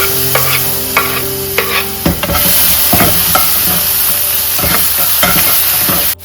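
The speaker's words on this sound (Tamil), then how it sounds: "இது எல்லாமே நல்லா பச்சை வாசனை போகிற வரைக்கும் நல்லா வதக்கணுங்க" Onions, tomatoes, chilies, curry leaves and ginger-garlic paste sauté in hot oil for chapati noodles, giving a loud steady sizzle broken by repeated scrapes and clinks of a stirring spoon against the pan.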